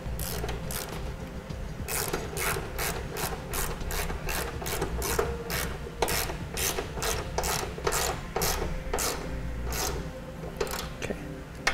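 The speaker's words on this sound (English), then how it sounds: "And we can go ahead and tighten these bolts as well." A ratchet wrench tightening bolts while installing a Blue Ox base plate kit on a 2008 vehicle, a steady run of rapid, close clicking strokes repeating throughout with no talking.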